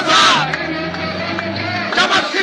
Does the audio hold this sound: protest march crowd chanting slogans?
yes